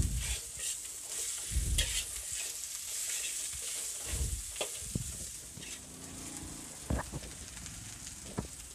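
Chopped onions fry in a pan as the base for Indonesian mi goreng, with a steady close sizzle and crackle broken by the scrape and clatter of stirring. No one speaks.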